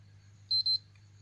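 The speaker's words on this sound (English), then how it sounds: "When you hear 3 beep, leave it." Two quick high-pitched electronic beeps from a PlayStation 3 with corrupt system files sound close together over a low steady hum, then the console goes quiet.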